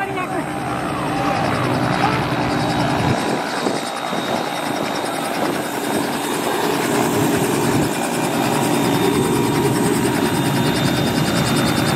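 A helicopter running at Pokhara International Airport while carrying injured people away, its loud, steady rotor and engine drone dominating throughout as a reporter talks over it.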